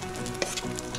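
Spoonfuls of glutinous rice, tofu and kimchi pancake batter fry in avocado oil in a pan, giving a steady, close, dense sizzle with faint crackles and no voices.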